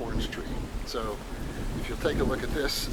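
Gusty wind rumbles and buffets the microphone outdoors in a backyard while someone talks over it.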